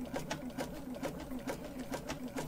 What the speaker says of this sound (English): And, you know, continue sewing slowly.